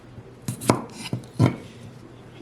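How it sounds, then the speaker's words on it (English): A kitchen knife cuts potatoes in half on a board, four sharp chopping knocks in an uneven rhythm, close and clear with no talking. "So I am going to cut these potatoes in half"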